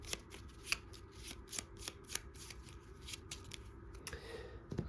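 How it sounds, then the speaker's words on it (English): Playing cards being shuffled for the Lord of the Rings: Journeys in Middle-earth board game, a run of quick riffling bursts repeating close up and moderately loud, with no talk over it. "And shuffle those up."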